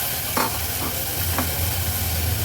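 Green chickpeas being sautéed in oil with turmeric and masala, heard as a loud, dense frying hiss with a couple of brief stirring scrapes, close and steady, with no talking.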